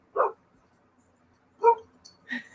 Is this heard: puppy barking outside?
yes